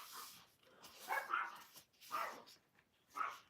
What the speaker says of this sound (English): so that's why they're barking